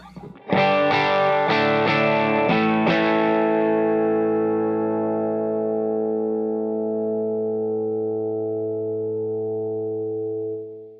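Electric guitar through a compressor pedal strums a few quick chords, then one chord rings out with long, even sustain before fading near the end, with no one talking.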